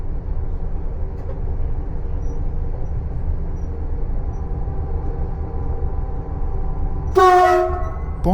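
TER regional train horn sounded from the cab at a whistle sign between Beauvais and Le Tréport, one short loud blast near the end after steady rolling rumble.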